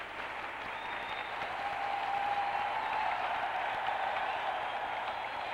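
A basketball crowd at a 1981 Arkansas vs Texas A&M game applauds steadily, a broad sustained wash of clapping and cheering from a large arena audience, even and continuous throughout with no speech over it.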